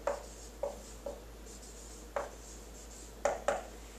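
A pen writing out a final math answer on a board or paper: about seven short, distinct scratchy strokes, spaced irregularly, with two quick ones in succession near the end, close and quiet over a low background hum.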